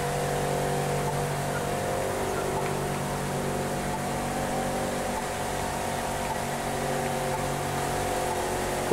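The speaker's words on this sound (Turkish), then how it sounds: "Motorlar bağırıyordu artık" Sustained car engine drone from the video game The Crew 2, with a classic Chevrolet Camaro among the cars, steady and loud throughout with a constant mechanical hum and no clear rev peaks.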